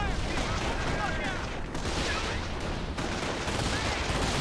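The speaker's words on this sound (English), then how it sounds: "Taking rifle fire!" Rifle fire and battle noise in the video game Company of Heroes, set on Omaha beach: a dense, steady roar of gunshots and blasts filling the whole stretch, loud and without pause, with soldiers' voices shouting underneath.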